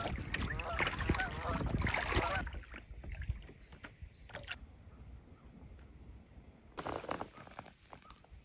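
Canoe paddling on a lake, with soft water splashes and wind at first, then gentle dipping strokes and drips, and a brief burst of water noise near the end.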